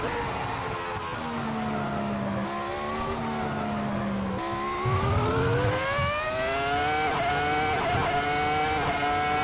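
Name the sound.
Ferrari F2004 engine revving to the rev limiter, from a video game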